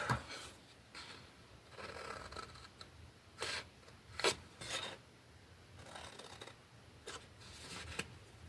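Scissors cut paper for scrapbooking, making soft irregular snips and rasping strokes up close in a quiet room.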